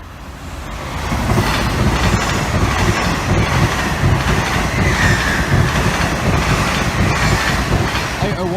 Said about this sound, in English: The London train's right behind me.